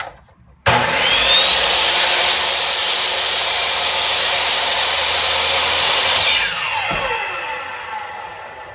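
Power tool cutting PVC pipe for hydroponic Dutch buckets starts abruptly with a loud, sustained whining cut that holds steady for several seconds, then winds down as the motor coasts to a stop.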